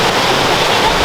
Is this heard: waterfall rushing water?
yes